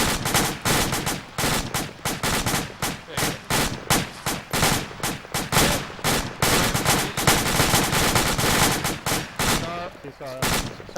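Rapid rifle fire rattles out during a fire team drill, close and loud, with quick bursts and single shots following one another almost without pause before trailing off at the end.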